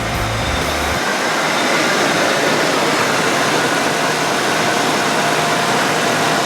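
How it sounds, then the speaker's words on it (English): An old wagon's engine idles roughly right up close, a loud, steady, noisy rumble with a metallic rattle running through it. "There's a weird metallic noise and it just idles so odd."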